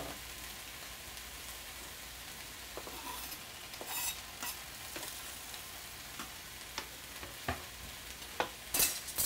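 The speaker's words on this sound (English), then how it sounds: "I'm just going to add my mushroom slices right into the pan with the peppers and the onions." Sliced mushrooms, peppers, onions and garlic sizzling in a pan, a soft crackling hiss with sharp pops and clatters that grow louder toward the end.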